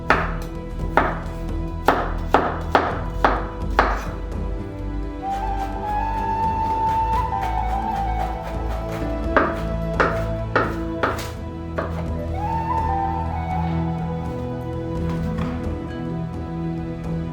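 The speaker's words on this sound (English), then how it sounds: "It takes a great deal of patience to peel each clove" Garlic cloves are worked on a board while making fire cider, heard as a run of sharp, evenly spaced knocks and taps, close and crisp, with a faint tonal hum in the middle.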